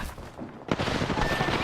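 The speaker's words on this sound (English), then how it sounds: "Whoa, they're shooting at me." Gunfire erupts in a battle royale video game: a burst of rapid, overlapping shots after a short lull, loud and close, continuing as a dense crackling fusillade with no talk.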